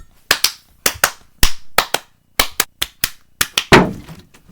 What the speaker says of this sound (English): But first, you need to clap.